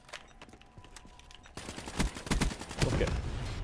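Repeated gunfire bursts with heavy explosive thumps during an online Call of Duty: Black Ops 3 match, including grenade launcher fire, loud and close, building in intensity over a few seconds.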